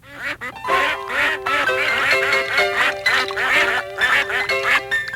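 Ducks quack loudly and continuously at close range, a dense overlapping chorus of several birds with repeated nasal calls filling the whole stretch.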